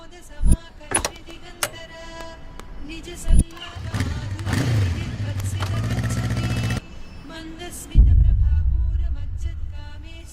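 A motorcycle is brought out and started, its engine catching and running at a steady idle for a few seconds, then cutting out and firing again, all beneath continuous background music.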